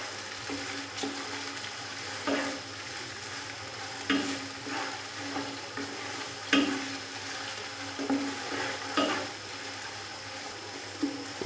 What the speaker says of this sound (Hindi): अदरक और लहसुन के पेस्ट को भी हल्का सा फ्राई कर लेंगे।